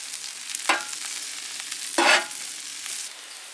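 Onions cooking on a Weber Q griddle, with a soft steady sizzle punctuated by two sharper scraping stirs, heard up close with no talking.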